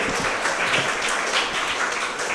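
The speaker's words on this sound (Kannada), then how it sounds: "ಅವರಿಗೆ ಮತ್ತೊಮ್ಮೆ ಜೋರಾದ ಚಪ್ಪಾಳೆಯ ಮೂಲಕ ವಂದನಿಸ್ತಾ ಇದ್ದೇವೆ" Loud, dense applause from an audience at a school opening ceremony at a Karnataka Public School in Hiriyadka, Udupi, sustained evenly and alone, with no pauses or voices over it.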